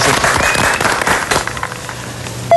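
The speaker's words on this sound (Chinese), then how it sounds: "好啊，准备了，预备，掌声欢迎" A studio audience on a television cooking show breaks into applause, a loud, dense burst of clapping that thins and fades over a couple of seconds before music begins.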